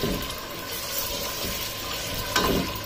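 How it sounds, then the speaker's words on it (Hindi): Peeled potato pieces and cumin fry in hot oil, giving a continuous close sizzle with occasional stirring scrapes, heard alone without speech. "अब इन आलू को ऑयल में फ्राई कर लेना है तकरीबन 5 से 6 मिनट तक"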